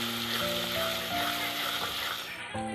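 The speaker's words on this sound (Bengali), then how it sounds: "মশলাটা ভাজা হয়ে গেছে" Masala sizzles steadily in a pan while chicken biryani is being cooked, giving a constant close frying hiss with a faint tonal hum underneath and no speech.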